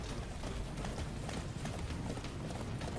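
Horse hooves clip-clop steadily in the Attack on Titan video game, a continuous galloping rhythm set against dense, loud game ambience with no talking.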